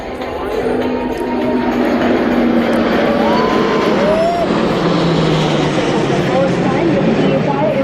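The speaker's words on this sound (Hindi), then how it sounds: "Taking now to the IL-78 along with Mirage 2000 team" An IL-78 tanker and Mirage 2000 jets fly past at an Air Force Day air show, producing a loud, continuous broadband jet roar that swells and holds throughout, with public-address commentary talking over it.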